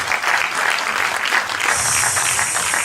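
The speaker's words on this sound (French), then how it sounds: "Bon, on applaudit, c'est tout à fait extraordinaire." An audience at a charity gala applauds a mentalist act, a dense burst of clapping close by that fills the room without a break.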